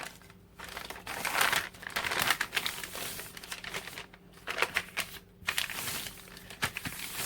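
A paper bag being folded and creased by hand for an art journal, giving steady close crinkling and crumpling with brief quieter gaps, no talk.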